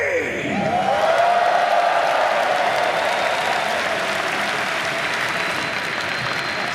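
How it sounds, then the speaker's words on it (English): An esports arena crowd at the Dota 2 International 2024 finals applauds in a dense, steady roar of clapping that stays loud and sustained throughout, with a faint announcer's voice fading at the start. "Slags and Tsunami sure know how to hype up a crowd"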